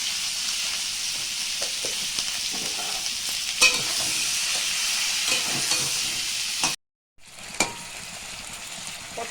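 Pointed gourd (potol) slices sizzle steadily while frying in a pan with salt and turmeric, with scraping stir strokes and an occasional clink, then a brief silence before the frying resumes.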